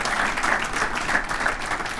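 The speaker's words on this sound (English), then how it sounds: "let's give Jan Vogel a round of applause" Applause for a speaker at a Torrance Area Chamber of Commerce event, a short burst of steady clapping from a moderate audience, fairly close and even throughout.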